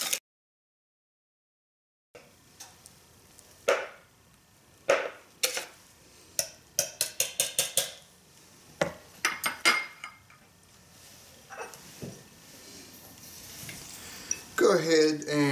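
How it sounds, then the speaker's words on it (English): Heavy whipping cream and vanilla extract are whisked in a bowl, a run of sharp rhythmic clinks of the whisk against the bowl, close and fairly loud, after a brief silent start. "Go ahead and give those a good whisk."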